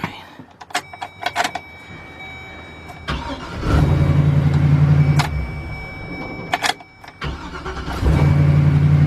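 A 2005 Chevy Express G2500 van with a newly replaced starter: a few clicks and rattles, then the engine cranks and starts twice, each time catching into a loud steady idle close by.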